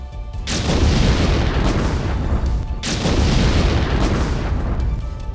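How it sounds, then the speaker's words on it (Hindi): Two deep, roaring explosions at a burning fireworks factory, a few seconds apart, each swelling into a long rumbling wash, loud and heavy. "एक के बाद एक धमाके होने लगे।"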